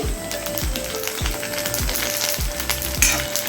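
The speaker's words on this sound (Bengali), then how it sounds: "ফুচকা আমার কেনা আছে সেগুলো ভেজে দিচ্ছি" Store-bought fuchka puris fry in hot oil on a gas stove, giving a steady, close, crackling sizzle with soft low bubbling thumps recurring throughout.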